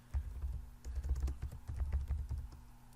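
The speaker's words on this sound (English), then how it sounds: "you're going to start typing our names" Quick bursts of typing on a computer keyboard, dense close clattering keystrokes in a rapid, uneven rhythm with a brief pause, fairly quiet and with no voices.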